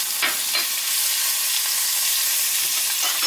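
Fish fries in a pan with butter, giving a steady bright sizzle with a few small clinks and stirring touches near the start, close and continuous with no talking.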